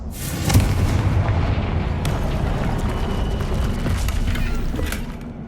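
Confringo blasting spell going off in Hogwarts Legacy on PS5: a deep booming explosion bursts early and rolls into a sustained low rumble with crackling debris, loud and close throughout.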